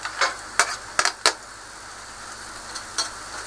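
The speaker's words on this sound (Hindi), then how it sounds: "साथ साथ मैं चम्मच चला रही हूँ" Spoon scraping and stirring chopped tomatoes and onions in a pan over medium heat, with a few sharp clinks against the metal at a steady, unhurried pace, close and fairly clear amid a faint background.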